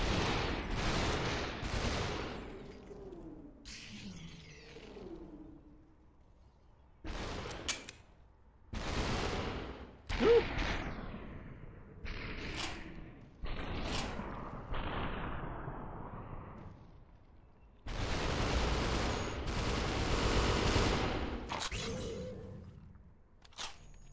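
Loud bursts of gunfire and booming shots in a video game, irregular blasts and rattling volleys broken by short quiet gaps, with a couple of longer sustained barrages near the end.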